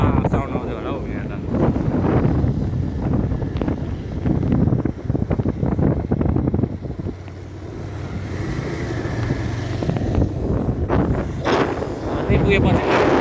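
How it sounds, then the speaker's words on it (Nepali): Strong wind buffets the microphone outdoors on the way to a hillside tea spot, a loud roaring rumble that swells and fades while someone talks over it. "पुरा हावाको साउन्ड आउँदै होला हौ यहाँ त।"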